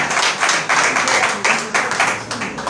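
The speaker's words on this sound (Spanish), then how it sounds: "Le damos un aplauso a él." Applause from a congregation at a Shabbat church service, a dense steady patter of many hands clapping with irregular surges, fairly loud and close.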